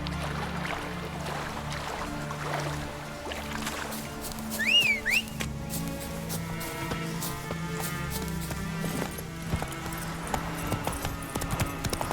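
Steady horse hooves clip-clop in a regular rhythm in The Witcher 3: Wild Hunt, alongside a low droning hum, with a brief whistle-like chirp partway through.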